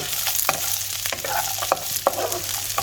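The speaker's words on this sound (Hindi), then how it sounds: "मैं इनको ब्राउन कर लूँगी हल्की आंच पे। बहुत अच्छी तरह टोस्ट करूँगी" Sheer khurma ingredients toasting on low flame in a pan, with a soft continuous sizzle and short stirring scrapes at irregular intervals, close and clear, no voices.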